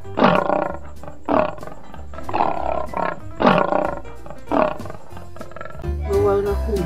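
A toy tiger gives out a series of loud, close roars, about five bursts spaced roughly a second apart, with short quieter gaps between them.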